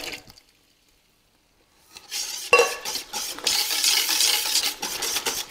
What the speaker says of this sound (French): Je vais brasser.